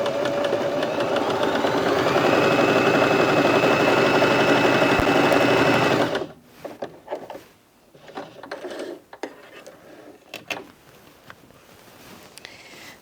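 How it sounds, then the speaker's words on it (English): A Bernette B35 sewing machine stitches through thicker fabric with a loud, steady mechanical whir for about six seconds, then stops, and softer handling clatter and rustling follow. "I'm going to sew in the centre position so the width can stay on number 5"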